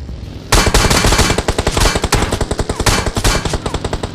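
Gunfire in PUBG Mobile on the Miramar desert map cracks from behind the player: a loud, sustained automatic burst of rapid, evenly spaced shots lasting several seconds after a quiet start.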